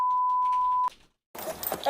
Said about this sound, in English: It's a beep.